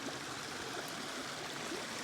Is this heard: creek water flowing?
yes